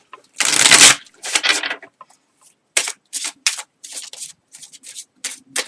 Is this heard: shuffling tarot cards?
yes